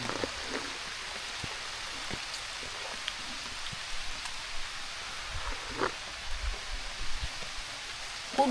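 Steady rain falls over Konkan farm fields at paddy sowing time, a soft even hiss with scattered nearby drips and occasional light knocks and rustles.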